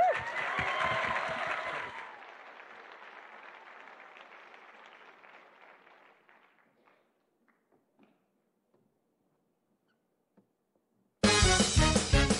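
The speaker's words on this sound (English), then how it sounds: "Will you give a warm welcome and a round of applause for the WTA dancers?" At a fundraiser, an audience applauds to welcome a group of dancers. The clapping starts loud, fades over several seconds to scattered claps and near silence, and then music suddenly starts.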